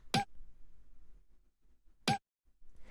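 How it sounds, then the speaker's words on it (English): A small percussion sample from a minimal house beat, layered over a hi-hat, strikes twice about two seconds apart, each a short, bright, clinking hit that decays quickly into near silence. "And then the last little percussion we have here is just this little percussion sound,"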